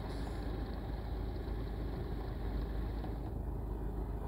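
Steady engine-room hum from the video game Among Us, a continuous low drone with even loudness throughout and no talk over it.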